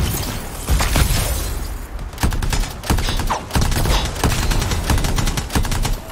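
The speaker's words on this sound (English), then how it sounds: "they're shooting from above" Enemies firing down from above in the Anthem shooter, loud bursts of rapid automatic gunfire broken by short pauses, with crackling impacts and a sharp shattering hit near the start.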